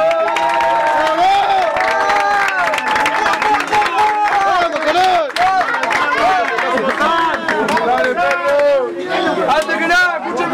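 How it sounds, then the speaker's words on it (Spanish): A crowd at a freestyle rap battle final cheers, whistles and applauds in a loud, continuous roar of voices and clapping, with shouted calls rising over the din. "¡Un aplauso para todos! ¡Bravo!"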